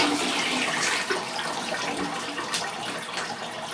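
Water pours steadily into a compact twin tub washing machine, a continuous close rushing and splashing with no talk.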